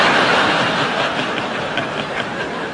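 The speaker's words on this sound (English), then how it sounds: "Should we just wait till this train's gone past?" A train rumbles past close by with a steady, loud rolling roar and faint rhythmic clatter of wheels, filling the space without any voices.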